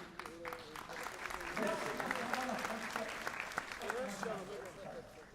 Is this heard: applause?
yes